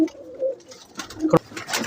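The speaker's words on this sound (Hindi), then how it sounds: "ये गोल्डन कबूतर है जी" A golden pigeon of a good breed coos in short, soft, low calls close by, with a brief sharper sound near the middle and faint background noise.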